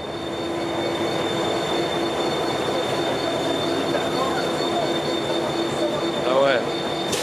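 A diesel locomotive train running in Mauritania, a steady loud rumble with faint squealing wheels and a high whistle-like tone throughout, no voices.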